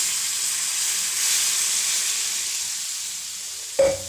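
Loud, steady hissing sizzle of water hitting a hot iron roti griddle (tawa), going on for several seconds before a short thump at the end.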